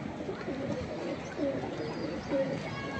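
Teddy, Ferozpuri and Sialkoti breed pigeons cooing softly in a loft, low murmuring coos under a steady background din, with faint chirps mixed in.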